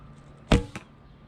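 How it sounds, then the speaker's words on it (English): A 500-spine GoldTip Traditional Classics arrow released from a Bear Kodiak Hunter traditional bow gives one sharp, close thump and whoosh, followed a beat later by a softer second knock, then quiet. "that arrow just zips out of that bow"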